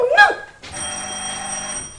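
An old-fashioned telephone bell rings loudly and steadily in a French Tintin adventure, starting after a brief spoken exclamation and continuing alone as a sustained metallic ring.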